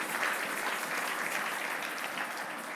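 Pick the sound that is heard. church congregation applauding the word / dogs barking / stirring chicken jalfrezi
church congregation applauding the word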